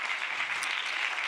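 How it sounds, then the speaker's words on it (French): Brief burst of audience applause at a film festival debate, dense steady clapping filling the whole moment. "on les applaudit tous et toutes"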